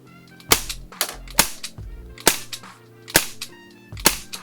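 Umarex Legends Mauser C96 (M712) CO2 blowback airsoft pistol firing five sharp, loud cracks at an uneven pace of roughly one per second, each with a short mechanical blowback clack, and no talking.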